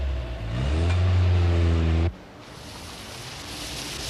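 A 1974 Fiat 132 sedan drives through a water crossing, its engine droning loudly with a steady low hum and rushing splash for about two seconds before cutting abruptly to a softer, hissing wash of water.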